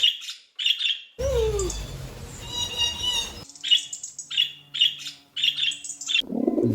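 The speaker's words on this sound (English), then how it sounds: "Parrot." A parrot squawking among other calls, with sharp repeated chirps and harsh squawks in quick bursts, plus a longer raspy screech in the middle, all close and clear.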